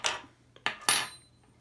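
Scissors snipping a dubbing loop while tying a Gold Ribbed Hare's Ear nymph fly for trout: three short close metallic clicks of the blades, the last the loudest, each followed by a faint ring, with quiet between them.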